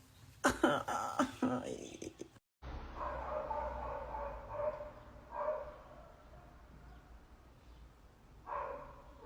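A neighbours' dog barks in a quick cluster of sharp, fairly close barks, followed by a few fainter barks against a low background hum.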